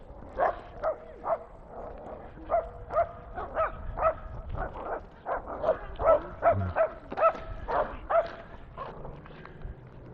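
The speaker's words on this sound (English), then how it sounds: "Oh, two dogs having words." Two dogs on a residential street trade barks, a string of sharp, fairly close yaps in irregular bursts over about ten seconds, with no talking.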